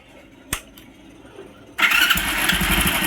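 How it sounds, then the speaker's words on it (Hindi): A Hero Splendor Plus motorcycle engine with a noisy timing chain starts up: a sharp click, then after a pause the engine catches abruptly and settles into a loud, steady running note close by. "तो चलिए सबसे पहले इसको हम चालू करके इसके आवाज़ को भी सुना देते हैं।"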